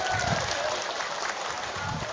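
An audience claps steadily in a dense, continuous round of applause at a political speech, with some crowd noise underneath.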